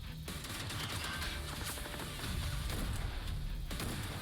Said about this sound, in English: that weapon that he was using was the S12K. That sounded the exact same as the S12K in PUBG Mobile